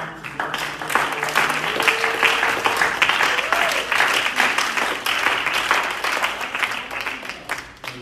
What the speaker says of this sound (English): Can we just clap our hands and worship?